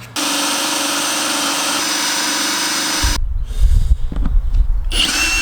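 A power drill whines at a steady high pitch for about three seconds, then cuts off, followed by rough grinding and clattering.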